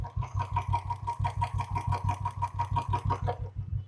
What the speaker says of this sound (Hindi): अब इंजन नॉइस देखिए